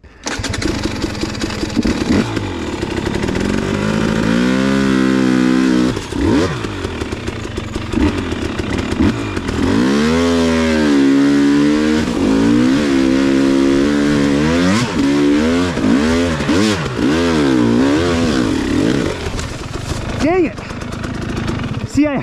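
Two-stroke KTM 300 XC dirt bike engine on an offroad trail at Hollytree, Alabama, revving loudly and continuously with rising and falling pitch sweeps as the rider works the throttle, with talk over it.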